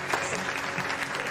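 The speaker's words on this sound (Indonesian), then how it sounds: "Tepuk tangan buat kawan." Audience clapping at a talk show about a tour and travel company, a short burst of steady applause that is moderately loud with light crowd noise.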